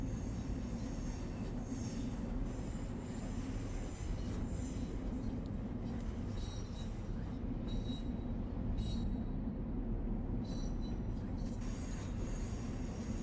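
A Swiss Flirt train on the Lucerne–Sursee line in Train Sim World 2 rumbles past. Its steady wheel and rail noise holds for several seconds with a few faint high squeals, and there is no talk.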